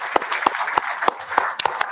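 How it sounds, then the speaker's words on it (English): A small audience applauding after a lecture, with sparse, regularly spaced claps that sound close and moderately loud and carry on steadily. "give a big round of applause for this excellent talk"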